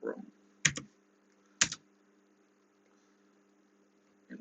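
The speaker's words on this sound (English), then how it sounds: "Type in our password" A few isolated keystrokes on a computer keyboard while entering a password at a server terminal: two sharp, separate clicks about a second apart over a low steady hum, close by.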